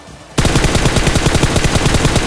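Rapid automatic gunfire in the battle royale game PUBG, a loud sustained burst of fast, evenly spaced shots bursting in after a brief quiet start.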